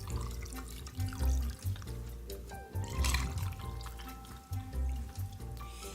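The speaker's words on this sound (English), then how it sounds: "then you're just going to top it with grapefruit soda" Grapefruit soda pours into a glass with lime, a steady liquid splash and trickle running for several seconds, close and moderately loud.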